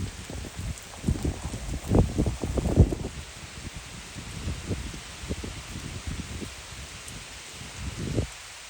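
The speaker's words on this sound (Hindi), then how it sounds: "मुसलसल पिछले 1 घंटे से सही तगड़े वाली बारिश हो रही है" Heavy rain pours steadily on a Punjab village, with water running from roof drainpipes; a dense, continuous hiss of drops fills the scene alone, swelling in louder bursts early on and staying close and constant throughout.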